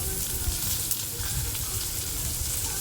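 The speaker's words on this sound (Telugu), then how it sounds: "ఉల్లిగడ్డ మగ్గనిద్దాము" Onions and curry leaves frying in hot oil, a dense, steady sizzle with crackling pops, close and loud with no talking.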